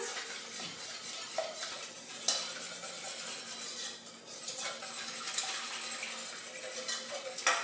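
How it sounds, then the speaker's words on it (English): A whisk stirs honey cake batter with eggs in a bowl, a quiet, continuous scraping and clinking that rises and falls with the strokes, with no one speaking. "I will give it a whisk."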